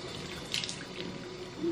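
Water runs from a tap into a sink in a home, a steady close hiss and splatter with a few brief louder splashes and no talking.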